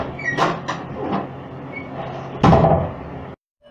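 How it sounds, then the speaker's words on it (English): A door is unlocked and opened indoors: several sharp clicks and clunks of the lock, then a louder thud as the door swings, ending abruptly in silence. "unlock my door"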